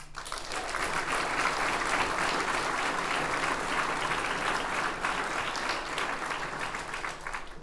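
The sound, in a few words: applause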